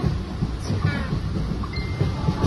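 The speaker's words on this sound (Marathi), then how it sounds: "पूर्ण ट्रेन मोकळी आहे" Steady low rumble and rattle of a moving train carriage, with wind noise and faint voices under the constant drone.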